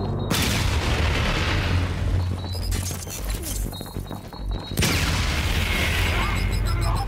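Grenade blasts in the shooter game Call of Duty: Infinite Warfare, with heavy low booms and crackling debris that ring out loud and close, then a fresh burst of blast noise late in the fight.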